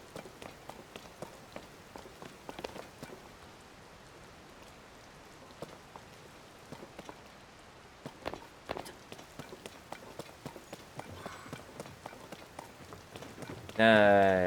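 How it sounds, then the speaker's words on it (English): Rain patters steadily with scattered drips and taps on a surface, fairly faint, and a brief louder tonal sound near the end. "it's raining"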